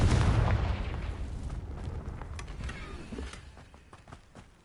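A Confringo blasting spell explodes in Hogwarts Legacy, a loud booming burst at the start that decays into a long crackling, rumbling tail of debris with scattered sharp pops.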